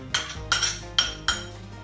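A spoon scrapes and clinks against a bowl in four quick strokes while softened butter, chopped dill, grated garlic and an egg yolk are worked together. The sound is close and clear, with no voices.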